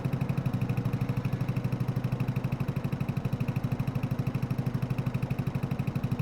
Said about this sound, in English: It's got a nice sound to it though, this tractor